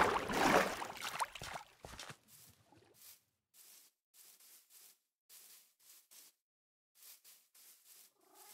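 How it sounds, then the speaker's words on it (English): A cat in the Minecraft video game purrs in a run of short, soft, evenly spaced bursts, following a louder, busier stretch of game noise at the start. "Oh, it's the cat."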